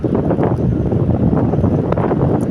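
Steady wind blowing hard across the microphone by a river bank, a dense rushing roar with faint splashes, no voices.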